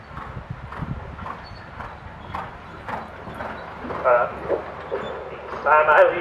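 Horse hooves clip-clop on the ground as a young horse with racehorse blood moves around a training pen, an irregular series of moderately close footfalls with a couple of louder bursts near the end.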